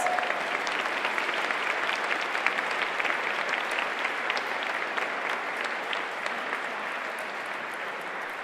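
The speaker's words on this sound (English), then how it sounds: "Now let's give them all and their friends, families, colleagues who are here with us today a warm round of applause." A crowd at a nonprofit awareness day gives a warm round of applause: dense, even clapping from many hands that holds steady and moderately loud throughout, with no voices over it.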